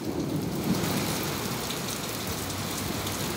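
Heavy rain pours down in a dense, steady roar, with a deep rumble underneath and no pauses, overwhelming the storm drains.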